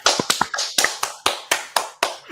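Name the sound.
people clapping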